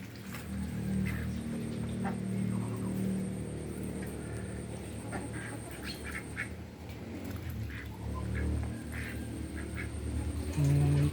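Ducks on a backyard farm quack steadily after being fed rice bran mixed with duck pellets and rice, the calls continuous and fairly near over low background noise, with no talking.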